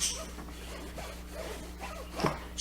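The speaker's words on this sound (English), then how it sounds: "once you have wiped the oil on your zipper, then I just go back over it" A luggage zipper that was just lightly oiled is run along its track, making a soft, close ripping rasp with a few quick pulls and a sharper burst near the end.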